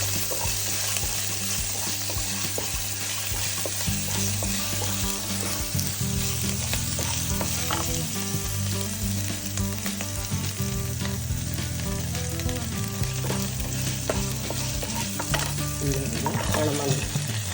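Onions frying in a pan with ginger, garlic and curry leaves for a green peas masala: a steady, dense sizzle with stirring scrapes, heard close and continuous, no voices.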